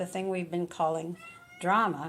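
Domestic cat meowing several times in quick succession, close and fairly loud, with a longer rising meow at the end, overlapping a person talking.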